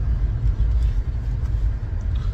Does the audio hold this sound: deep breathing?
no